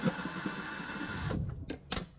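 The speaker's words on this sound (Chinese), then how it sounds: "这边加一个电钻" An electric drill with a universal-joint extension backs screws out of a refrigerator compressor, a steady high whine that stops abruptly, followed by two short bursts of the motor.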